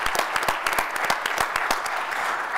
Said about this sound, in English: Quick hand of applause. Wonderful work.